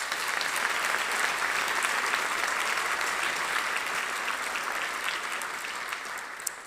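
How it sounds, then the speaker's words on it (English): Sustained audience applause at an awards stream event, a dense, steady wash of many hands clapping at even loudness, tapering slightly toward the end. "Let's give them another round of applause."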